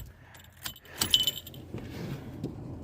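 Keys jangle and turn in the ignition of a car with a suspected starter solenoid fault, a close metallic rattle followed by faint clicking and low mechanical noise without the engine catching.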